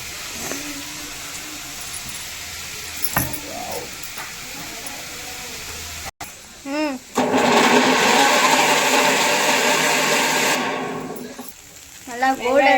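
Onion and green chili sautéing in a pan for a Sunday home-cooked meal, a hissing sizzle that swells loudly mid-way for a few seconds, with quieter kitchen noise and brief voice-like sounds around it.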